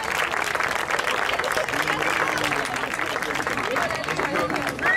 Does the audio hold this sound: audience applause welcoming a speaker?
yes